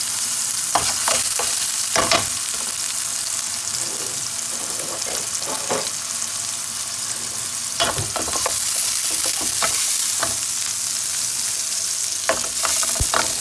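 Fried rice with onion sizzling and frying in a pan, a loud steady crackle throughout, with the scrape of stirring coming through at intervals.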